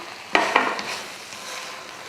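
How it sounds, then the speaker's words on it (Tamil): Cooked tomato rice being stirred in a pan, a couple of quick scraping strokes near the start followed by a soft, steady background with faint scrapes. "சாதம் கிளறியாச்சு"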